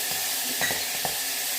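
Whole spices with cardamom and bay leaf, plus peas and cauliflower, sauté in a hot pan: a steady close sizzle with a few soft stirring knocks.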